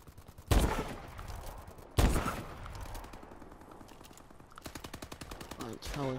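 Call of Duty Advanced Warfare gunfire: two heavy shots, then a burst of rapid automatic fire, set under voices talking.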